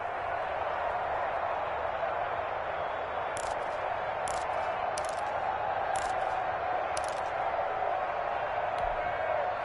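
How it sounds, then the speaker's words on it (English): Crowd noise from a stadium in an American football video game on PS4 swells steadily ahead of a big third down, a continuous roar with a few brief sharp bursts on top. "The crowd getting into it as we come up on a big 3rd down"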